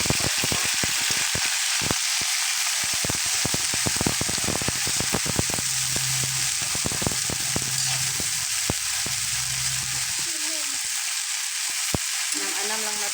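Fiddlehead fern (pako) sautéing in a hot pan for ginisang pako, with a steady dense sizzle and rapid scraping of a stirring utensil across the pan.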